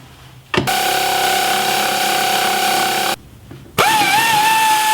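A power tool spins off 10mm nuts from the back of a Jeep Cherokee XJ fender flare, two loud sustained whirring bursts close up, split by a short pause, with no talk.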